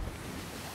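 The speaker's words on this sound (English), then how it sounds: "Yeah, water is coming in." Rushing water flooding into a wooden ship through a hole in its hull in Sea of Thieves, a steady broad roar of churning seawater and wind with no voices, heard only in a brief moment.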